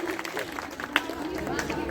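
An audience at a general knowledge competition in Paigaon, Mathura claps to welcome a student, a steady patter of hands running through the whole stretch, with chatter and a voice over the top.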